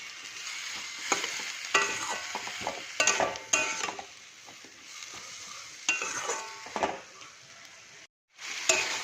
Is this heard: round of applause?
no